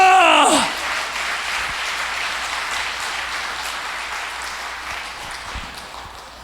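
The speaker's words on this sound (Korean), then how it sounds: "그 하나님께 영광의 박수." Church congregation at an evening New Year revival service breaks into loud sustained applause right after a brief spoken voice, clapping holding strong then slowly tapering over several seconds.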